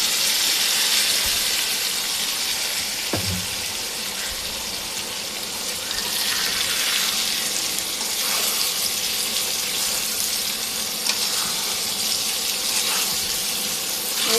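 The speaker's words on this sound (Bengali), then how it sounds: "এগুলা এখন এই যে তেলের মধ্যে দিয়ে দেব, পেঁয়াজের মধ্যে এই যে দিয়ে দিলাম।" Boiled radish tipped into hot oil with onions for a spicy radish fish curry, giving a steady, loud, close sizzle that hisses throughout, with one soft thud early on.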